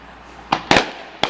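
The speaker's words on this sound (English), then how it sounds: "I see fireworks, so I'm gonna record them" Fireworks exploding outdoors during a Fourth of July display: three sharp, loud bangs, the middle one doubled, over quiet background hiss.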